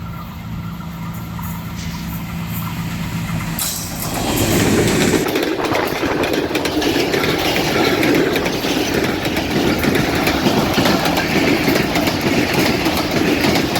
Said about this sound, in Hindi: 39 अब जाफ़र एक्सप्रेस काफ़ी अच्छी स्पीड से यहाँ से गुजरी है।